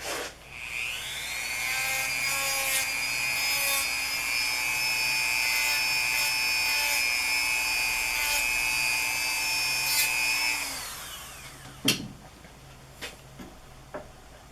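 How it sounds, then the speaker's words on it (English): A Dremel rotary tool runs steadily for about ten seconds with a high, whining tone while trimming a small piece to fit, then spins down, followed by a few light knocks as the piece is set in place. "So just take the old Dremel."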